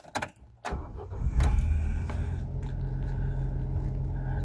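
A 2006 Ford Ka is started. A few clicks lead into a brief crank, then the engine catches and settles into a steady, low idle that continues to the end.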